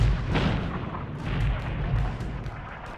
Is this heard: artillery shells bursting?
yes